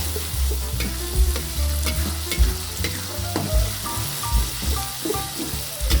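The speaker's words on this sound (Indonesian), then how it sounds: "Tumis hingga bumbu matang" Spices and bay leaves sizzle and fry in a wok for an Indonesian egg balado dish, with repeated scraping stirs and clinks of a spatula punctuating the steady hiss, close up and without talk.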